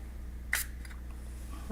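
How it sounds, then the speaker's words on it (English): A fragrance atomizer gives a single short, crisp spray burst, close and fairly faint, in an otherwise quiet room. "Let's go ahead and test the spray."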